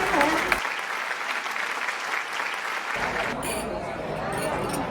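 Applause from a crowd at a banquet celebration fills the room, a continuous clapping close by with voices underneath.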